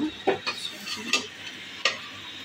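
A utensil stirs cold cooked rice reheating in a pan, giving a few scraping strokes and light clinks over a faint sizzle, close and fairly quiet.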